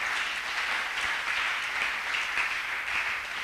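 A church congregation applauds during a sermon by Prophète Garry Kenge. Dense, steady clapping from many hands fills the space, even in level and unbroken, with no talking.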